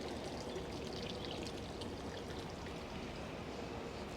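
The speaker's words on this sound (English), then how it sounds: "the water is running into the bamboo" Water runs into a bamboo water feature in a Japanese garden in Tokyo, making a soft, continuous pouring and trickling sound that stays quiet and even throughout.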